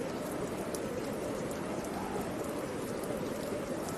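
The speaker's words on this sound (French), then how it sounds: "Et vous êtes obligé de parler fort avec le vent quand même et vous êtes sous la pluie." Outdoor rain falling steadily with wind, a dense, unbroken hiss of drops at moderate level throughout, no voices.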